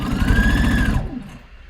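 Sewing machine stitching a seam along the edge of a garment facing, a steady loud mechanical whir that runs for about a second before stopping, leaving a fading low hum.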